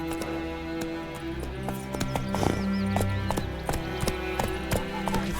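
Hoofbeats of a horse galloping in The Witcher 3 video game, a steady rapid clip-clop pounding on, with a short whinny partway through over a sustained game music bed.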